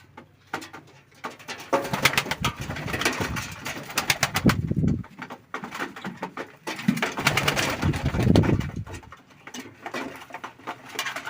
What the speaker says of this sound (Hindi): देखो मेरे कबूतर अभी दाना खाएंगे